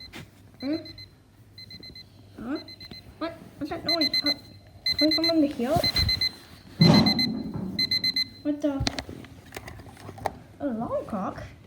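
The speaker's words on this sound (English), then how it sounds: "alarm clock" An alarm clock rings indoors in repeated electronic beeping bursts, loud and close, while children talk and exclaim over it throughout.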